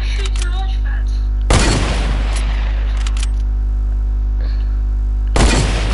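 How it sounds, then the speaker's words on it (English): Gunfire in the video game Fortnite aimed at a launch pad, with loud bursts of shots cutting through a constant low hum and game noise. "I am not shooting at you,"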